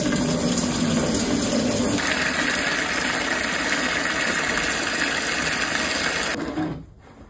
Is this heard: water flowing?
yes